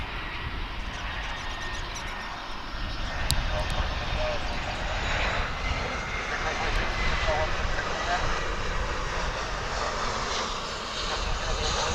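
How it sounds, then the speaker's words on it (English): An American Airlines passenger jet taxis into takeoff position at Dallas/Fort Worth International Airport, its engine roar a steady, broad wash that holds level throughout, with a voice speaking over it. "American Flight 2872 to Santa Ana, California is maneuvering into takeoff position."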